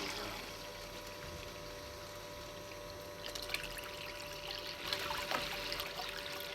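Water streams through a Micro Mat Mini 6 cleanup sluice loaded with Cape Disappointment sand, a steady close trickling and splashing wash with a pump hum underneath, growing busier partway through.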